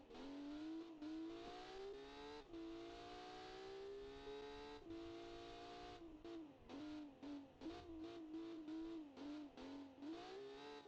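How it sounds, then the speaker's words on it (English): Race car engine screaming around a turn and over the corkscrew during an auto race, a loud close high-revving whine that holds long sweeps, then breaks into rapid rev changes as gears shift. "You can hear that engine working hard."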